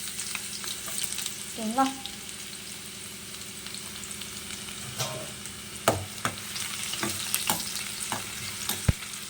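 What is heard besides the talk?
shallots frying in oil with mustard seeds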